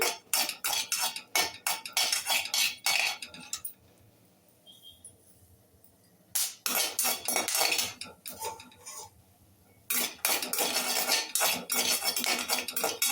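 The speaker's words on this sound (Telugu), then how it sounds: "చూడండి బాగా వేగిపోతున్నాయి శనగకాయ విత్తనాలు కూడా." Peanuts roast dry in a pan, stirred in bursts with quick scraping rattles and clinks of a utensil, pausing twice into near silence before the stirring resumes.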